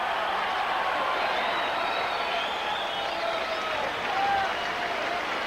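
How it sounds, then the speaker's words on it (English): A boxing crowd applauds and cheers at the Las Vegas Hilton after a round of the Julio Cesar Chavez versus Tony Martin fight, a steady wash of clapping and crowd noise lasting throughout at even loudness. "Crowd showing its appreciation here at the Las Vegas Hilton."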